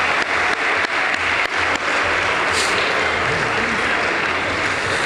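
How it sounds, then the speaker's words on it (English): Sustained applause from a school assembly audience at a spring athletic awards gathering, a dense steady wash of clapping that fills the room for several seconds at even loudness. "So a big round of applause to all those people I mentioned"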